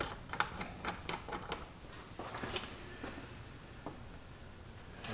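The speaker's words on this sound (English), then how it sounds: "this is going to be the millimeter with the 10mm open end wrench here" A 10mm open end wrench tightens a nut while fitting a windshield on a 2022 Honda Pioneer 520 side-by-side, producing quiet, close metallic clicks and scrapes in a quick irregular series that thins out.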